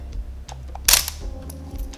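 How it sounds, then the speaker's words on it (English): A Minolta SRT101 film camera fires its shutter once, a sharp close mechanical snap with a brief ringing tail, framed by a few soft clicks of handling. "It has a very nice shutter sound."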